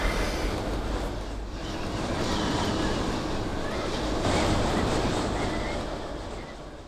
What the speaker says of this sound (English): it turned a little bit windy